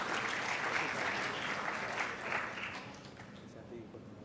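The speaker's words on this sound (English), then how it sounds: "Please give a round of applause for the speakers." Audience at a Thailand Focus 2013 healthcare conference applauds the speakers and moderator on stage, a dense, steady clapping that fills the hall and slowly thins toward the end.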